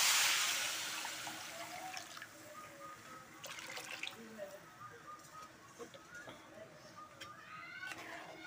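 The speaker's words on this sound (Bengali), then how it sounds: "আমি এই যে পানি দিয়ে দিব এখন" Water is poured into a pot of fried rice being cooked into pulao, a soft splashing trickle that starts stronger and settles into gentle bubbling and sizzling. Scattered faint background noises are audible.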